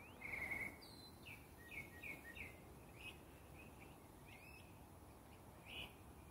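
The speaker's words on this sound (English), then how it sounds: "Looks like the bird is saying good morning to the neighborhood." A bird sings outdoors in a morning neighborhood, giving a series of short, bright chirps and trills at moderate distance over steady background hiss, with a louder phrase at the start and scattered calls afterward.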